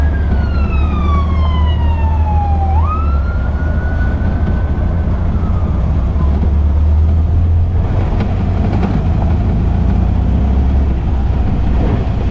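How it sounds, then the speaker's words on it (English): An ambulance siren wails past a roadside auto repair shop, its pitch sweeping and dropping sharply as it goes by, then fading into loud steady road and engine rumble. "There goes today's second ambulance."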